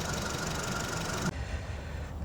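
A 2013 Honda Civic 1.8L engine runs with a steady, slightly rattly hum. The noise drops off abruptly partway through as the engine is switched off, and a faint background hum remains.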